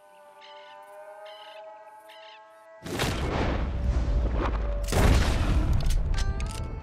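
In Red Dead Redemption 2, a gunshot kills a panther during a hunt: after quiet ambient birdsong, a loud sharp blast erupts with a booming, rolling echo, followed by a second heavy report.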